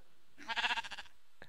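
A single short sheep bleat from Minecraft, a wavering, mid-loud baa lasting about half a second, alone and without talk.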